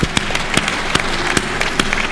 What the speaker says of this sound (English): Let's keep on clapping for her.